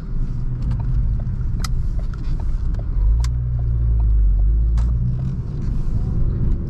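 A Ford Focus ST driving on a road, its engine and tyre rumble steady and close throughout, swelling into a deeper, louder drone midway before settling back.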